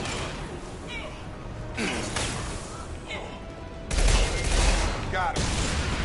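Gunfire bursts in a PS4 video game as a fuel tank is shot down, rapid crackling volleys that get louder partway through, layered with game noise and a voice talking.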